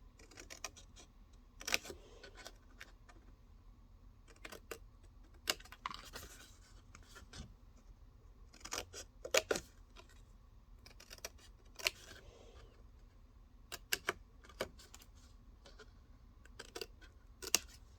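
Scissors cut paper pieces away during Halloween papercraft, with faint, close snips and crisp paper clicks scattered irregularly over a quiet room.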